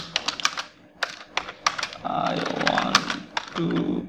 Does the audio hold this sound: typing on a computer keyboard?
yes